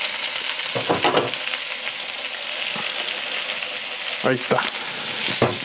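Garlic fries in a pan with steady, busy sizzling, broken by louder scraping stirs of the pan, while someone talks briefly.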